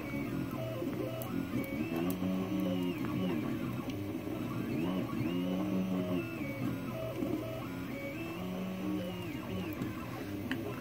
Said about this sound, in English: this should be printing the brim, because I use a brim for bed adhesion